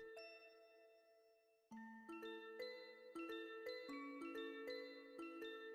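A tune from the video game Undertale plays alone, a quiet bright chime melody of bell-like notes, a held tone first, then a quick run of ringing notes continuing steadily.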